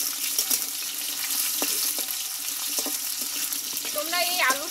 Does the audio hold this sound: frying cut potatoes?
yes